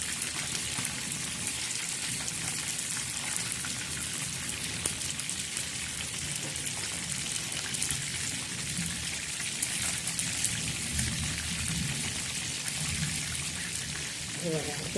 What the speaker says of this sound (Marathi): सर्व तळणार आहोत या पद्धतीने तुम्ही तळा